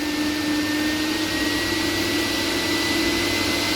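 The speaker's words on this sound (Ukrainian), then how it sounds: "А тепер на пилососі починаю додати потужність." A vacuum cleaner runs continuously as its suction power is turned up gradually. Its loud, even roar and steady tonal hum stay close for the whole stretch, with no speech.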